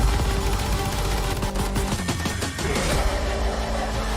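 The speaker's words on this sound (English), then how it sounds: "Zombie with a minigun shot." Rapid sustained minigun fire from a zombie in the Call of Duty: Vanguard Zombies trailer, a loud dense stream of shots layered over a dark music-and-effects mix with no speech.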